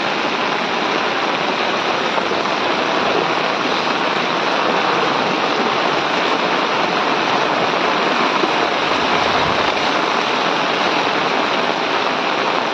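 Loud, steady rush of fast-flowing floodwater from heavy rain, a broad continuous roar with no pauses and no voices, close by.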